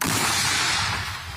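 A single loud, booming blast from an artillery gun firing nearby, with a broad rushing roar that slowly fades.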